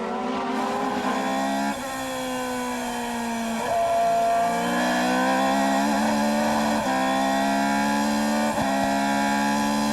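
Formula 3000 race cars, including a Red Bull car, at the 2002 Nurburgring race give off a loud, continuous high-revving engine whine that shifts pitch with gear changes as the cars pass close by.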